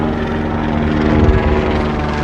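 A patrol helicopter's steady rotor drone over the coast, fairly loud and continuous, with a low throbbing swell midway and no talking.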